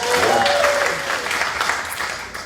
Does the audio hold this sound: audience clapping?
yes